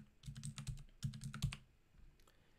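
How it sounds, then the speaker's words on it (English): Rapid clicking keystrokes on a computer keyboard as a meeting ID is typed into a video conferencing app, two quick bursts of taps close to the mic and fairly quiet, with a few scattered clicks after. "Type in the meeting ID"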